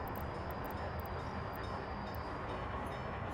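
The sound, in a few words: gravel train moving in Workers & Resources video game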